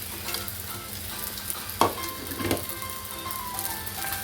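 Rice tipped into a hot pan for Spam fried rice sizzles steadily, with a couple of scraping stirs and clinks over the continuous frying hiss.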